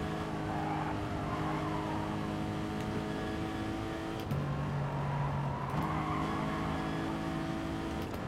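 Race cars in a Gran Turismo Sport endurance race at Bathurst drone with a steady engine tone that shifts pitch as gears change, a continuous, moderately loud mechanical hum with faint tire noise and no talk.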